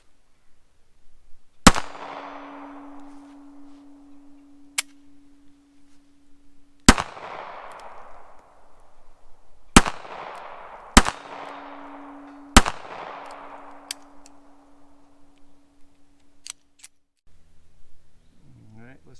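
Bersa Thunder 380 pistol fired in rapid succession, loud sharp cracks in quick groups with ringing tails and a few quieter clicks between, heard close and alone.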